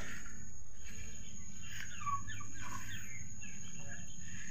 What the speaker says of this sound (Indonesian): Ini ayam pada ngikutin kita ini.